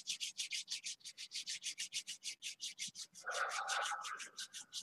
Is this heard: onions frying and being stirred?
no